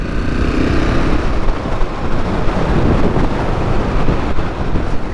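Heavy wind buffets the microphone while riding a motorcycle on the open road, a loud, steady, broadband roar lasting throughout with no talk.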